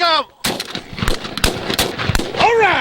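Shotgun blasts fire in a rapid, uneven volley at Canada geese during a hunt, several loud, sharp reports close together, with goose honks before and after and faint voices among the shots.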